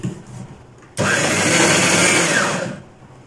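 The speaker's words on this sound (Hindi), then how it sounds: "इसको अब मैं अच्छे से मिक्सी में चला लूंगी" A mixer grinder blending batter abruptly whirs to life, runs at a loud steady high-pitched whine for under two seconds, then winds down into quiet.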